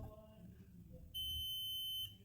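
A multimeter's continuity beep on a laptop power pin: a steady high-pitched tone for about a second over low background hum, starting abruptly and cutting off cleanly.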